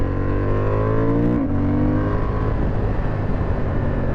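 Honda Hornet CB750 with an SC Project exhaust revving hard under acceleration, a quick quickshifter upshift cutting the note around the middle before the engine pulls on, loud and close with no talk.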